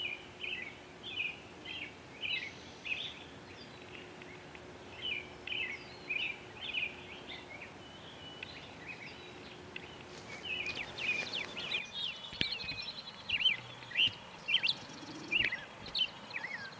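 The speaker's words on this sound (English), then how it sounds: "It's a beautiful Lazuli Bunting." Lazuli Bunting singing outdoors, short bright warbled phrases repeated every second or so, fairly faint and distant over a quiet background, with a brief rustling disturbance partway through.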